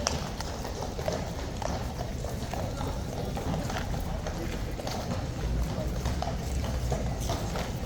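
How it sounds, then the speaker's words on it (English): Several King's Guard horses clip-clop at a steady trot, continuous overlapping hoofbeats with a crowd murmuring in the background. "That's Valet, in fact, the 4th horse."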